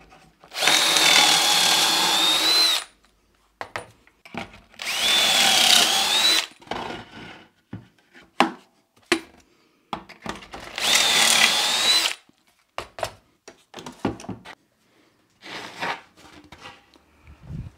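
A power drill bores holes into a wooden shelf board, four loud whining bursts of a few seconds each, separated by quiet gaps filled with short clicks and handling knocks.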